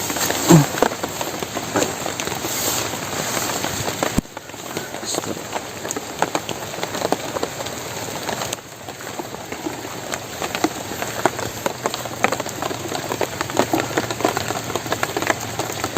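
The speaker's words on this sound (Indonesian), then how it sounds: "Ini sebentar doang hujannya, paling 10 menit tadi, cuma hujannya deras banget." Heavy rain pouring down outdoors, a dense, steady hiss of drops hitting surfaces, loud and continuous for the whole stretch with a faint low hum underneath.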